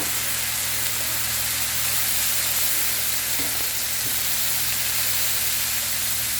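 Chopped green onions sizzle steadily in hot oil while Chinese-style spicy noodles are being cooked, a loud, even frying hiss filling the whole stretch with a faint stir near the middle and a low steady hum beneath.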